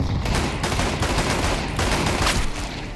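Rapid, continuous gunfire from dual pistols in a shooter video game, dense and loud, with no break across the whole stretch.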